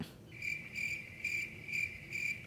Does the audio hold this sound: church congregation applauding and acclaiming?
no